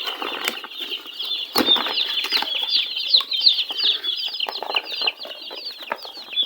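Ross 308 broiler chicks shift about and flap their wings inside a cardboard carton, giving steady close rustling and fluttering with a dense layer of high, continuous peeping throughout.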